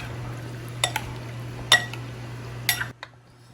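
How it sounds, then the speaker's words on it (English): Roasted beets are stirred in a bowl with a utensil, a few sharp clinks of metal against dish over a low steady hum, close and clear, ending in near silence. "I'm just going to mix these around."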